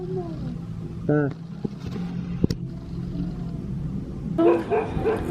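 A small brown puppy off its leash gives a couple of short yips and barks outdoors near a beach, alongside vehicle rumble and talk.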